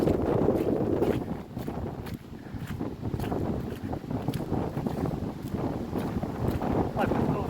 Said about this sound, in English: Wind's blowing right across there